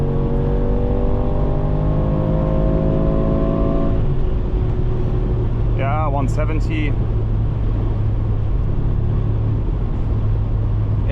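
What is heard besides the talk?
Mercedes G63 AMG V8 engine driving on Autobahn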